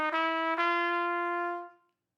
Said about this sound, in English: we're going to walk up chromatically from a concert D to a concert F